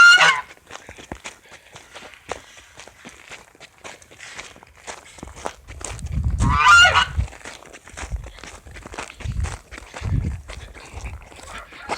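Geese on a farm honk in a loud burst at mid-clip and a few more times after, close by, over crunching footsteps walking through the yard.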